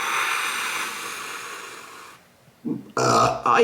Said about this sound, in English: even the burp came out